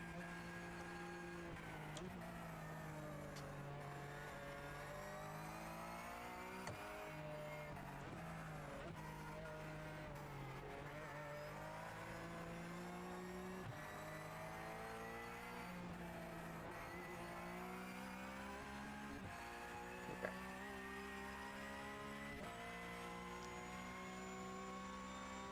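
Porsche engine in a racing video game, a continuous high-revving whine with pitch climbing and falling through gear shifts, steady and fairly quiet, with no speech.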